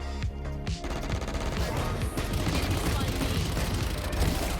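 Dense run-and-gun gunfire from the Valorant shooter game, with rapid automatic bursts rattling continuously and loudly over a busy in-game mix, with faint talk underneath.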